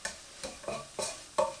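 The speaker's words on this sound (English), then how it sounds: "Give that a little stir." A spoon stirs turmeric and spices frying in oil, giving a few soft scraping strokes at a steady rhythm over a faint sizzle, close and quiet.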